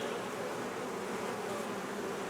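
Honey bees buzzing around beehive colonies in an apiary during a pollen flow, a soft steady drone of many wings that continues through the whole moment, with no talk.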